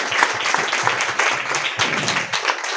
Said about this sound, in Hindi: हम तालियां बजाकर उनका स्वागत करते हैं।